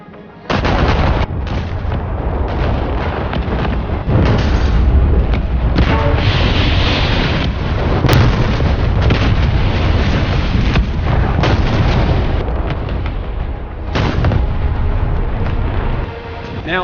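Battleships and Sturmtiger assault guns trade artillery fire near a bridge in a video game, heavy booming shots and explosions rolling over each other in a loud, dense, nearly unbroken barrage.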